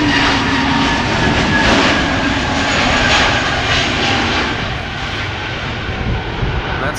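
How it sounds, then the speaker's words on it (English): An EasyJet Airbus A320neo jet airliner departing Schiphol Airport for Prague gives off a loud, steady engine roar that holds for the whole stretch without a break. "A320neo. EasyJet flight 27927 outbound to Prague in the Czech Republic."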